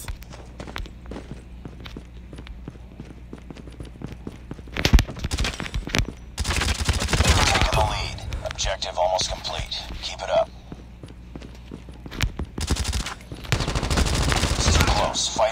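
Gunfire and footsteps in the shooter game Call of Duty Mobile: quiet running steps give way to several loud bursts of automatic fire with brief pauses between volleys.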